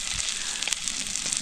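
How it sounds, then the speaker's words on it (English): Food sizzles steadily in a hot, nearly inch-thick frying pan at a riverside campsite, a bright continuous hiss with small pops and crackles, close up and with no talking. "Yeah, you sizzle your little heart out. Sizzle all you like."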